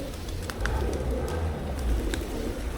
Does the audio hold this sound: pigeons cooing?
yes